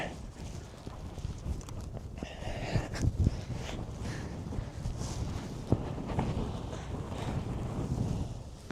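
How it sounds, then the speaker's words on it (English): Strong wind buffets the microphone in blizzard conditions beside a vehicle stuck in deep snow, a steady broadband roar with gusting surges, close and loud, with faint voice in the background. "Fucking wind."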